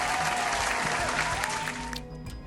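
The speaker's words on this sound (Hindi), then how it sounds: "हाँ तालियां" Dense studio audience applause on a Pakistani TV game show, steady and full, tapering off near the end as a bright electronic tone sounds beneath.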